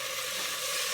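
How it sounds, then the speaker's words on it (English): Garlic sizzles in a hot pan greased with cooking spray, a steady close hiss for one brief moment with no voices. "the first thing we're going to do is saute some garlic"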